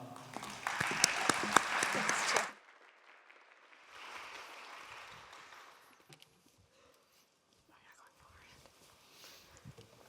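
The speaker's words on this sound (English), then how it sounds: "if you give them a round of applause and welcome" Brief burst of audience applause welcoming a career panel onto a stage, loud for about two and a half seconds before cutting off, then fading into faint room murmur and quiet voices.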